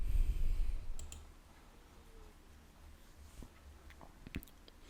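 Faint computer mouse clicks at a desktop, a couple of soft sharp ticks against a quiet room hum, with a slightly louder click near the end.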